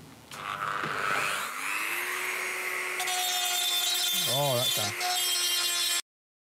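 Dremel rotary tool running, a high whine spinning up then holding steady, with shifting tones, a brief voice-like warble and noise, stopping abruptly at the end.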